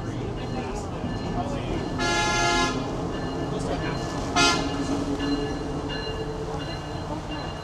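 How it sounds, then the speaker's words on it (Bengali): An old-fashioned train engine arrives at a station in Skagway, Alaska, its horn sounding two long toots over a steady rumble, with people chatting nearby. "এই যে আরেকটা ট্রেন আসছে। ও আচ্ছা, ইঞ্জিনটা আসছে।"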